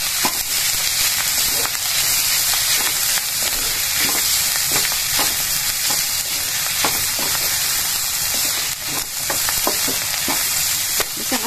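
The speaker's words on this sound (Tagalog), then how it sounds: "Unahin muna natin ito na lutuin bago natin ilalagay yung ating kanin." Vegetables sizzle steadily in a hot pan for fried rice, a loud continuous hiss broken by frequent short scrapes and stirring clicks throughout.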